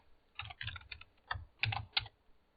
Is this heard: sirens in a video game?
no